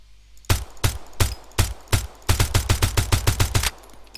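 An SP22 gun fitted with a muzzle attachment fires in the shooter game Road to Vostok: five sharp, evenly spaced shots, then a rapid run of about ten more, loud and close, with no talking.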